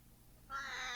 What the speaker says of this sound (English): Yeah, that's my cat